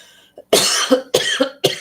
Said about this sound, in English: I get my coughing just like we all do.